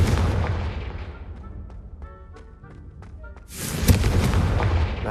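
Confringo fire spell in Hogwarts Legacy goes off as a sudden loud blast, preceded by a rumbling game ambience with faint chiming tones, then a sustained crackling roar afterward.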